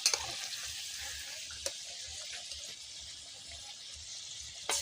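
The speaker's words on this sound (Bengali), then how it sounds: "আলুটাকে ফ্রাই করে নেব একদম লাল লাল করে" Potatoes fry in oil in a pan over a wood fire at a picnic, making a continuous hissing sizzle with a few soft clunks and stirring knocks.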